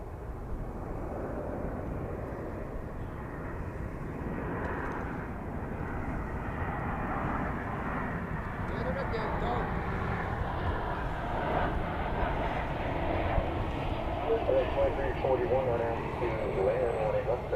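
An airliner takes off from runway 18 Left at DFW Airport, its distant engine roar swelling steadily over the clip while people talk over it.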